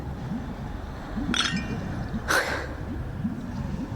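Two bright glass clinks from a celebratory toast in the video game Honkai: Star Rail, spaced about a second apart over a low murmuring background.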